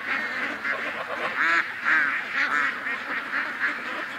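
Several ducks quack repeatedly nearby in a chattering, uneven series of calls, with no talking.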